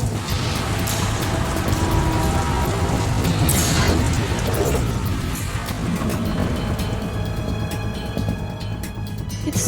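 Steady rain in the video game Metal Gear Solid 2: Sons of Liberty hisses and patters on surfaces, a dense continuous wash of sound with occasional louder drops.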